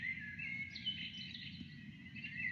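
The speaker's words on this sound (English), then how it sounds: "Birds and their songs can be heard in the trees and shrubs all around." Birds sing in trees and shrubs, faint high chirps and trills carrying over a soft low ambient hum, with no voices.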